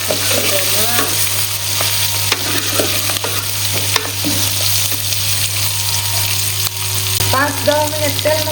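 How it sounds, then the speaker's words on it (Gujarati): Stuffed green chillies fry in hot oil in a village kitchen, giving a steady, close sizzle with occasional stirring scrapes throughout. "5-10 મિનિટ તેલમાં તળા દઈએ"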